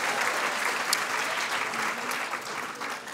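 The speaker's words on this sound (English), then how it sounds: "I prefer the clapping" A seated audience claps steadily at a medical school white coat ceremony, a dense, sustained wash of applause from a large crowd with no voices breaking through.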